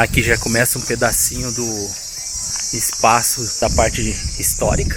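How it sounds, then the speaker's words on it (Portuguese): Dense, steady insect drone of cicadas on a forest trail at a farm on a quiet Sunday morning, a high constant buzz throughout under someone talking, with no distinct bird calls standing out. "esse barulho que vocês estão ouvindo por aí é o barulho das cigarras, dos pássaros"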